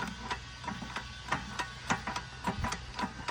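A wooden-barrel apple juice press with a 5.5-litre tub runs idle at first speed, giving a steady mechanical clatter of sharp, regular knocks and ticks over a low motor drone, close and fairly loud.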